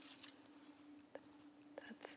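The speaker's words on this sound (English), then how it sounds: "Is that a cricket?" A cricket chirps indoors as a thin, steady high-pitched trill that runs through the whole stretch, faint and close, with a few soft taps and rustles around it.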